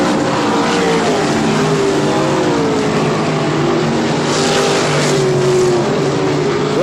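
Sprint cars race around a one-third-mile clay oval at Humberstone Speedway, several engines howling at once in a steady, loud, continuous roar with shifting pitch as the cars pass through the corners.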